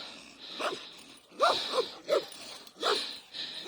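A dog barks in short bursts, four or five sharp woofs spaced irregularly, fairly close in a forest, with a faint high hiss in the background.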